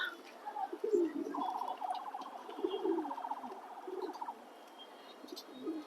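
A pair of racer pigeons, including a black female, coo in a soft rhythmic run lasting a few seconds, close by with low background murmur.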